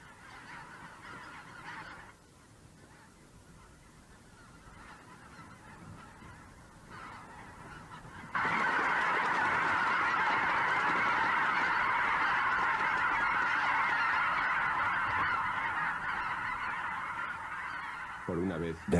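Snow geese honk in a dense, continuous chorus of overlapping calls, moderate at first and then swelling abruptly into a loud, sustained clamor from a large flock that holds until the end.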